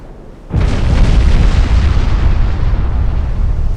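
Naval gunfire in the warship game Ultimate Admiral Dreadnoughts, with a heavy boom that bursts in suddenly and rolls on as a loud, sustained low rumble that barely fades, with no talk.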